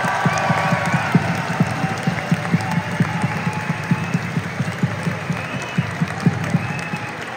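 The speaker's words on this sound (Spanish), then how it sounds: "Aplauso para ella," Concert audience at the Rosemont Theatre applauding and cheering for a performer during a show, a steady roar of clapping with rhythmic unison claps and occasional whoops.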